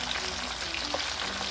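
Whole goldfish fry in oil in a pan for Jamaican-style fried fish, a steady, even crackling sizzle at low to moderate volume with a faint tonal hum beneath and no voices.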